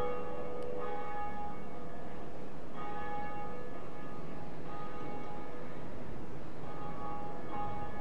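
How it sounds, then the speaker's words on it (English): The first bell in the Dark Souls video game tolls repeatedly, a deep resonant church-style bell struck about every two seconds, each strike ringing out and decaying over a low ambient rumble. "after you ring that bell,"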